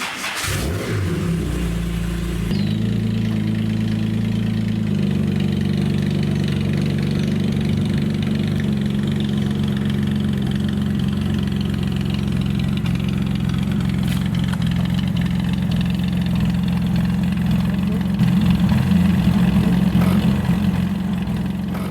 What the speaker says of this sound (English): Well, Lindsay, what we have here is a very late Series 1 covered headlight Jaguar XKE roadster, known as an OTS open two-seater.